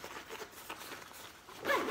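A zipper is drawn on a roller skate carrying bag with a Velcro strap: a short, close rasping pull that grows brighter and louder at the end.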